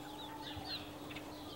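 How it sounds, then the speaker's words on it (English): Eight-week-old chicks cluck and peep softly on a farm, a few faint scattered chirps over a quiet background. "These eight-week-old chicks will be going to a new home tomorrow."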